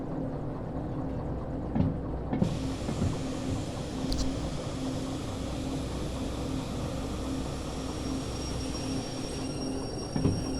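Train in the railway simulator game Derail Valley rolling slowly into a siding, a steady low rumble and hum of wagons with a few brief clanks and squeals along the way, no talking.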